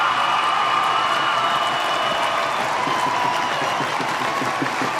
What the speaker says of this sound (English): The Skydome stands and applauds